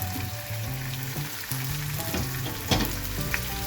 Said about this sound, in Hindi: अब इसे थोड़ा सा फ्राई करेंगे, क्रिस्टल ब्राउन करेंगे